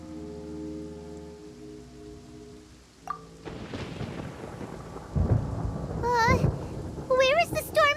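A thunderstorm rolls in the Genshin Impact video game as deep thunder rumbles and rain build over a soft musical drone, with sharp electric crackles and warbling effects near the end.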